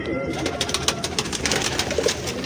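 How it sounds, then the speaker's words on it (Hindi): Pigeons coo close by, a Sadhna pigeon among them. The calls are steady and soft, with a busy mix of bird chatter, rustling and handling noise underneath. "ये साधना कबूतर है जी"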